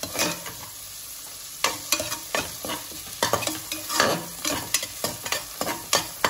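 Tomato sautés in the oil tempering for goat leg paya curry, a steady close sizzle broken by repeated scraping stirs of a spatula against the pan, with no talking.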